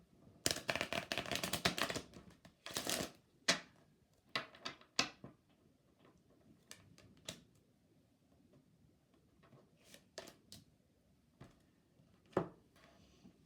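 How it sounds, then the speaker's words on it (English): Lenormand and oracle cards are drawn from a deck in a quiet room, giving soft, crisp slaps and flicks in irregular bursts, close by and faint, with no one talking. "I'm pulling 2 Lenormand cards and an oracle card"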